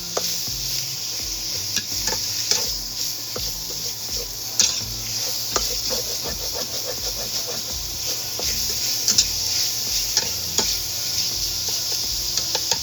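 Ground beef sizzles and hisses steadily as it browns in a pan, with occasional scraping and stirring clicks and no talking.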